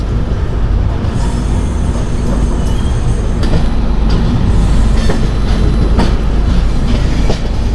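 The Jammu-bound 22705 Humsafar Express rolls steadily along the rails, a loud, constant rumble heard from on board with rhythmic clacks and faint squeals, no voices.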